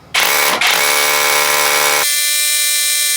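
A power drill bores an 8mm pilot hole through an outside wall, starting abruptly with a loud, near whine that dips briefly, then continues steadily before shifting to a thinner, higher-pitched spin as it breaks through.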